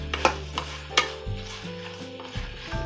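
Two green chilies sautéing in a pan with drumstick pieces while making sambar: a few light stirring scrapes over a soft, steady sizzle, close by, with no talking.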